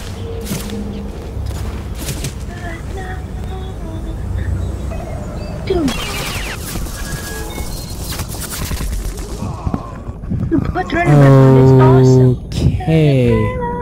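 Ghost Recon Online gameplay with dense bursts of gunfire, booming grenade blasts and mechanical clatter, loud and close, while a player talks over much of the action.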